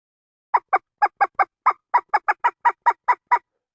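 A rapid series of about fourteen short, raspy squeals from a bellows squirrel call imitating a baby squirrel in distress, close and loud, in uneven bursts, with no talking.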